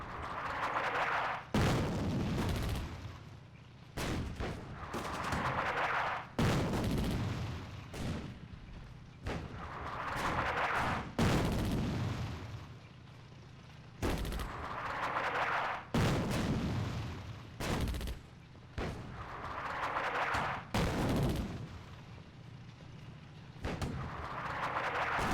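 Airstrike explosions and gunfire from the strategy game Attack at Dawn: North Africa, set in Operation Crusader: loud booming blasts repeat every few seconds over a steady bed of crackling artillery and rifle fire.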